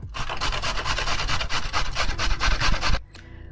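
Rapid, rhythmic rasping as a carrot is rubbed hard against a coarse grater, loud and close, ending abruptly with a faint clatter.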